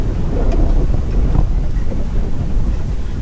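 Strong wind buffets the microphone in continuous gusty rumbles, loud and close, with no voices.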